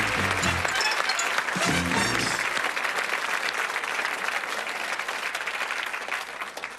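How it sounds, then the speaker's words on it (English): Loud, sustained audience applause in a television studio, a dense wash of clapping that carries on steadily for several seconds with a few voices briefly audible at the start. "Give him a round of applause."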